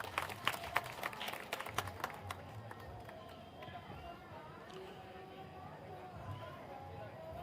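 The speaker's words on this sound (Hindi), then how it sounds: "मैं सर से आग्रह करूंगा कि एक बार जोरदार तालियों से इनका स्वागत करिए।" An outdoor rally crowd at a Samastipur training-camp ground claps to welcome a guest, with sharp, scattered near claps in the first few seconds that then thin into a softer, sparser patter, and voices murmur underneath.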